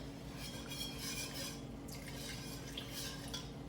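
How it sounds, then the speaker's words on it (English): Soft scraping and clinking of a utensil stirring a mixture in a pot, steady and close, with light wet sounds throughout and no talking. "now I'm going to stir this in slowly"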